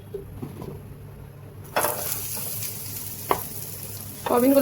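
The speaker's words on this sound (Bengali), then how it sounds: "এবার আমরা প্যানে সামান্য একটু তেল গরম করে এর মধ্যে দিয়ে দেবো ম্যারিনেট করে রাখা সয়াবিনগুলো" Marinated soybeans drop into hot oil in a pan and burst into a loud, steady sizzle that fills the rest of the clip, with a brief clink partway through and a louder surge of frying near the end.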